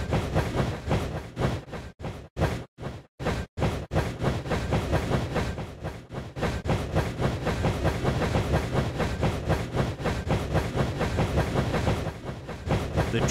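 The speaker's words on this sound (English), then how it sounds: "Press the space bar to power your train." A toy train runs along its tracks in the Dinosaur Train video game, a loud, rapid, steady clickety-clack rhythm that stutters briefly near the start, then carries on evenly with no talk over it.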